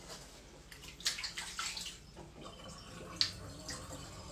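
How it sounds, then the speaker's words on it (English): A wig being swished by hand in a basin of clean water, irregular close splashes and sloshes with a few bright drips and trickles, no voices. "Place clean water in the basin and gently swish wig and shampoo until shampoo is removed from wig."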